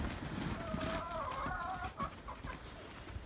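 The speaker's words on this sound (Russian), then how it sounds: "показала я вам курочек. Начали нестись активней. Без петуха." Brahma hens cluck in a village yard, a mix of drawn-out and short clucks from several birds at moderate distance over constant background noise.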